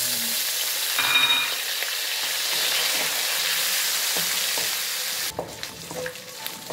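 Meat frying in a pan for pancit bato, a steady close sizzle and hiss with stirring clinks that break into quieter crackles near the end.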